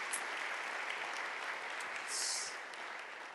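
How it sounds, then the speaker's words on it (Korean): A church audience applauds to welcome a guest pastor. The clapping is steady, dense and even, heard from a slight distance in a large hall, with a brief swell near the end. "우리 박수로 환영하시겠습니다"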